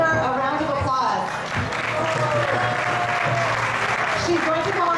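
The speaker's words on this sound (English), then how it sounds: "Please give her a round of applause." Audience applause from a crowd at an outdoor Rathayatra festival in Boston, steady and dense clapping throughout, with cheering and voices mixed in.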